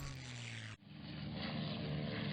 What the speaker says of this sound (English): More torpedo bombers.